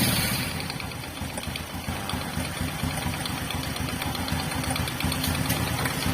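A Honda Supra X 125 motorcycle engine idles steadily just after starting, a close, continuous mid-pitched putter with a faint knocking rhythm that holds an even level throughout, with no voices.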